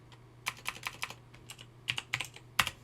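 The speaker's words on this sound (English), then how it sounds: "on my keyboard I'm going to press Control and R" Keystrokes on a computer keyboard while coding Java in NetBeans: a run of sharp, close clicks in short bursts, with brief pauses between the groups of presses.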